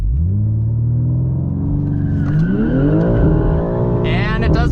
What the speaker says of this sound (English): what happens if we launch it in rear wheel drive mode,